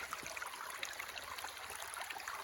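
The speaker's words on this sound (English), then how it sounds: "This is a creek" A creek running alongside a property flows in a steady, broadband wash of water with a constant bright rush and faint trickling detail, heard up close with no one speaking.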